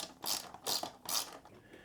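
Three quick, evenly spaced bursts of close ratchet clicking from a small socket wrench working the fender stay bolts on a Freedare e-bike, each rasping run separated by a short pause, with no voices.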